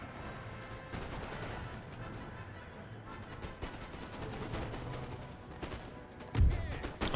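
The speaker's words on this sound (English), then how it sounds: "I'm gonna continue firing on the wall, given that it takes so long time to break through that." Regiments of soldiers firing on a wall in a period battle video game, a dense, continuous crackle of massed musketry at mid distance, punctuated by a heavier thud near the end.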